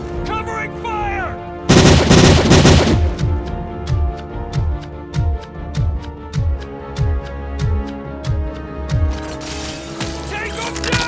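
Covering fire rattles out in a dense opening burst, then settles into a steady run of sharp, evenly spaced single shots, loud and close, with shouted voices before and after the firing.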